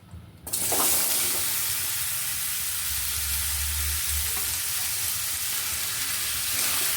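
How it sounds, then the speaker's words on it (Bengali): Cut potatoes drop into hot oil in a kadai, and a loud, dense frying sizzle bursts in and then holds steady and close for several seconds with no talking. "ওই কড়াইয়ের মধ্যে দিয়ে দিচ্ছি কেটে রাখা আলু।"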